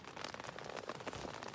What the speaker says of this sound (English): and now the rain has started